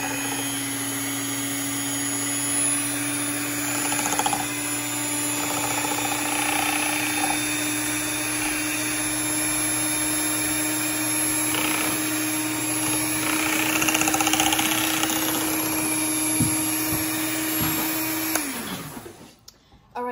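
An electric mixer whirs steadily through homemade stretch mark cream, a loud constant motor hum with faint scraping, then winds down and stops near the end.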